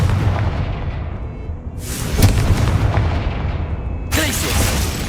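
Confringo blasting curse explosions in the Hogwarts Legacy video game, two loud booming blasts over a rumbling game background, the second near the end.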